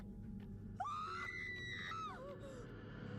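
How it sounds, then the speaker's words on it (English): A generic stock scream sound effect from a TV drama rises sharply and holds as one high, wavering cry for over a second, then trails off, heard alone over faint background noise. "It's like a generic scream sound effect that they just threw in because they were like, we need to put something here."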